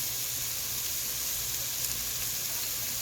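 Onion frying in a pan for a zucchini and kielbasa dish gives a steady, close sizzle with a constant hiss that holds evenly from start to finish.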